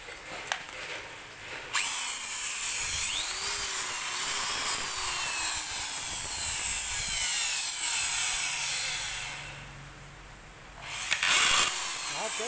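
A Hitachi hammer drill whirs loudly and steadily for several seconds, stops briefly, then starts up again, all recorded at close range.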